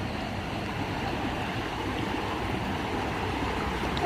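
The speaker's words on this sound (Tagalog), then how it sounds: "Ito yung falls." A steady, soft rush of water comes from the waterfall and stream at Shui Lo Cho near Tai O on Lantau, Hong Kong, unbroken and fairly distant with no voices.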